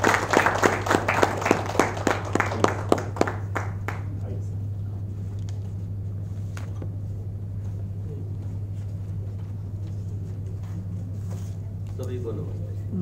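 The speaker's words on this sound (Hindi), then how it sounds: "एक बार जोरदार तालियों के बीच" A crowd at a club training session claps for several seconds to welcome a speaker. The applause is loud at first and then fades, and a steady low hum continues underneath with some talk.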